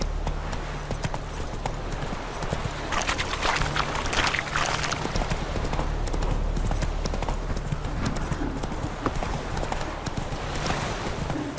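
Roach the horse gallops in The Witcher 3, a fast, continuous drumming of hooves close by, loud and steady throughout with a rushing background.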